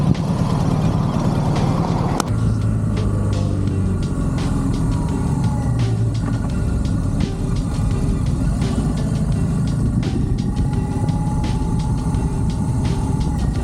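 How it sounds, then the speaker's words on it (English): A motorcycle engine runs steadily after starting, a loud, close, continuous idle hum with a brief click near the start. Faint ticking sounds are scattered through it. "Will this poor bike start after I have abused this fuel pump several times now?"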